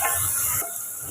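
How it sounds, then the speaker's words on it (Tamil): Onions and tomatoes sauté in a pan for Tamil-style mutton curry, giving a steady close broadband sizzle with light stirring that eases slightly after the first half-second. "இப்போ இதை நம்ம வதக்கி விட்டுக்குறோம்."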